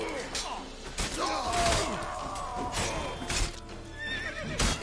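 Roach the horse in a video game lets out a loud neigh and whinny with snorting and hoof clops, amid game sounds and thuds.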